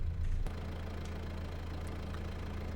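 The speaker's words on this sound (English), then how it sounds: "Hear that engine purr." Kubota M6 tractor engine idling in Farming Simulator 22, heard from inside the cab as a low, steady rumble that is quiet and constant, with a brief louder bump at the start.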